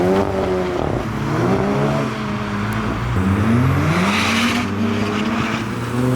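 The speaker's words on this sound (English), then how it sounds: "There's the very loud Audi that was just revving for about 10 minutes non-stop." A very loud modified Audi at a car meet revs its engine hard, the deep engine note climbing and falling in long sweeps, close by and steady throughout.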